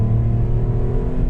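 Renault Clio V6 engine of about 230 horsepower, a deep steady rumbling drone heard from inside the car as it pulls, loud and continuous with no talk.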